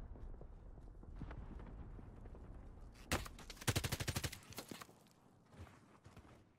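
Automatic gunfire in the video game Warzone, with a player under fire from a rooftop and a building: low background clatter, then a sharp shot and a loud rapid volley mid-clip, trailing off into scattered shots.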